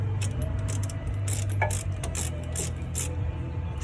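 A ratchet wrench tightening a 15 mm sway bar nut during a leveling kit install on a 2013 Chevy Tahoe, with a quick series of close, sharp clicking bursts over a low steady hum.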